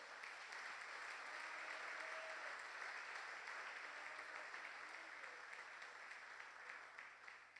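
A church congregation applauds in a long, even wash of clapping, steady and fairly distant, with a low hum underneath.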